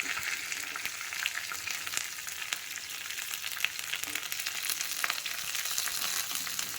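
Curry leaves, along with green chillies, fry in hot oil as a tempering for plain dal, giving a steady, dense sizzle and crackle close by with no talk.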